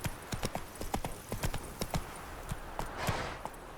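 Hooves of Roach, a horse in The Witcher 3, clip-clop in a steady trotting rhythm, close and fairly crisp, with a faint snort partway through and no talking.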